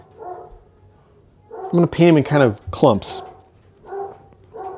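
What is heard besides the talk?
dogs barking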